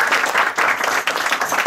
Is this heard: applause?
yes